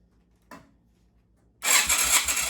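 A Yamaha Virago XV250 V-twin motorcycle running on its fuel reserve gives a brief cough, then fires and catches into a loud, close, uneven burst of engine noise that carries on to the end.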